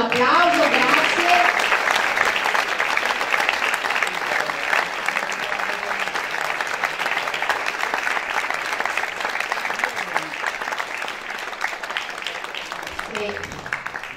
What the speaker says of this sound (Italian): accoglieteli con un applauso